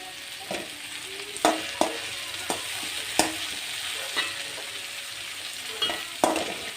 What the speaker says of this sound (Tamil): நல்லா தக்காளி வதங்கட்டும்.